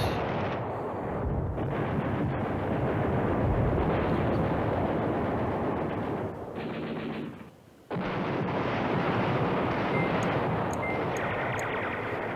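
Sustained bombing explosions and gunfire from the WWII strategy game Command Ops 2: Highway to the Reich, a dense continuous rumble of blasts that briefly drops out near the end before resuming at full loudness.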